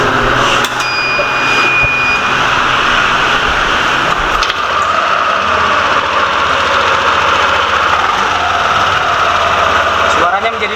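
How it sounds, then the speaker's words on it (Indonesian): A Yamaha NMAX 155 scooter engine, freshly reassembled after a CVT service, runs steadily at idle with a continuous close mechanical drone throughout, with talk over it. "baru kita hidupkan kembali mesinnya guys"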